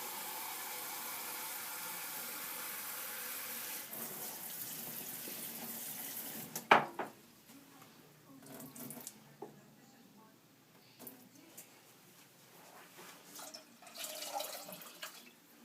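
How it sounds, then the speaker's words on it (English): Tap water runs steadily from a faucet for several seconds, then stops, followed by a loud clunk and scattered splashes and drips. "We're going to take 2 cups of tap water."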